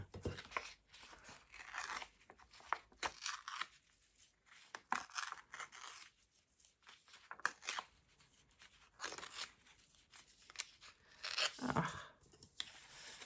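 Scissors snip and cut through paper for an Art Deco collage, a quiet run of irregular crisp snips with faint paper rustling, close by, and no talking.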